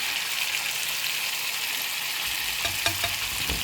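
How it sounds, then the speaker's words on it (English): Shrimp fry in a pan next to catfish, giving a constant dense sizzle up close, with a few light utensil taps and shuffles near the end. "we're just going to go ahead and add the delightful shrimp on the side"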